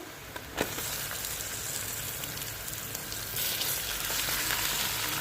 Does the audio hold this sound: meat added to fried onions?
yes